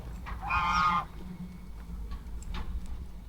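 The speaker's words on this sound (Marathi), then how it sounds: "इथेच आम्हाला दोन बदक दिसलेले आहेत" Ducks on the NIAM campus in Jaipur give one loud, close honking call lasting about half a second, followed by faint, scattered calls over outdoor background noise.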